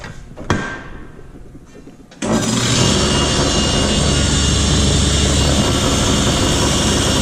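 A table saw cuts a groove for a drawer bottom, a plow joint in a board: after a short quiet stretch with a faint knock, the motor starts abruptly and a loud, steady whine and cutting roar fill the rest.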